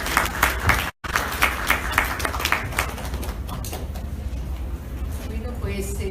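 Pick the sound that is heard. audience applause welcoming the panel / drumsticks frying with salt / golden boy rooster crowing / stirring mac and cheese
audience applause welcoming the panel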